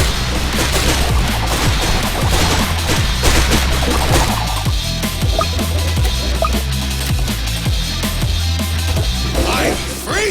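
Rapid gunfire from Tower Defense Simulator, a tower defense video game, crackles steadily and densely throughout, with bursts overlapping in a continuous barrage under a busy game soundtrack.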